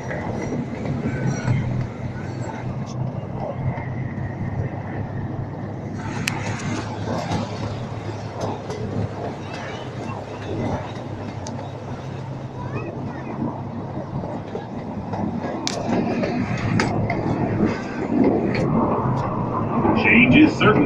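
CP Huntington No. 79, a small passenger train on the Lake Winnepesaukah amusement park railroad, rumbles along the track with steady rolling noise, occasional wheel squeals and clicks, and voices heard at times over the ride.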